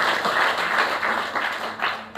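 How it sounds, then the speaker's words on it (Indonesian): A church congregation claps briefly during a sermon, a short, fairly loud burst of mixed hand claps that thins out toward the end. "Beri tepuk tangan terbaik buat itu."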